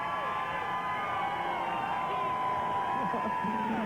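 A large race crowd at Watkins Glen roars and cheers after a 1998 NASCAR Cup win, a broad sustained wash of distant voices with whoops, while an announcer's voice and engine-like tones sit underneath.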